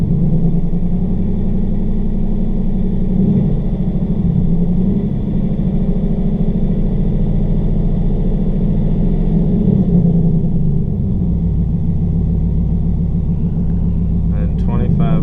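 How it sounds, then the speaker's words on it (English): A Ford Mustang V8 with a TH400 transmission rumbles loudly and steadily at close range, held at a raised engine speed with little change over the whole stretch. "so let's give it a few little revs here"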